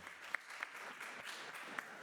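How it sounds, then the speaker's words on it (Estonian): Faint, thin applause from an audience warming up at an Audi dealership anniversary event in Estonia, distant and low with a few sharper individual claps standing out. "Nii et teeme ühe aplausi soojenduseks."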